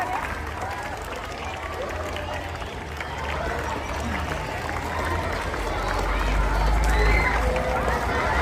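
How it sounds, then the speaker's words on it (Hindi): A crowd at a school Republic Day ceremony claps, rising gradually in loudness toward the end, with a low rumble and some background murmur underneath. "जोरदार तालियों से स्वागत करें।"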